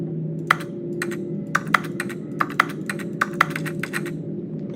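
Sharp clicks from a computer mouse and keyboard while playing The Stanley Parable, a quick irregular series of close, distinct taps above a constant background hum.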